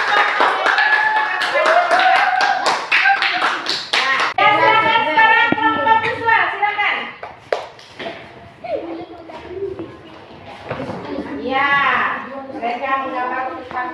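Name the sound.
classroom applause for a student group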